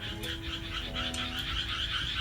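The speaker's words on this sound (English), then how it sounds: "we hear the numbers of frogs" Many frogs croak together in a rural Japanese garden, a dense chorus of overlapping calls at moderate distance, heard alone without talk.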